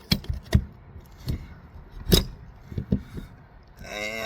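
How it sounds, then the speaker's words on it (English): A roof core sampler is whacked to seat it in a commercial flat roof, giving a few sharp metallic knocks and clinks spread over several seconds, close and fairly loud, followed by a rising scrape. "I'm going to give it a little whack, make sure we're all the way down."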